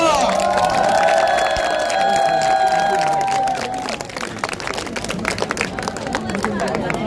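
A large crowd at an outdoor political election rally claps and cheers loudly and continuously, a dense wash of applause and shouting that holds steady and then eases slightly.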